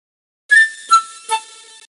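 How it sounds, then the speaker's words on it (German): A clarinet plays a short phrase of three notes from the PC game Die CD Rom mit der Maus 2, clear and isolated, with silence before it. "So also hört sich eine Klarinette an."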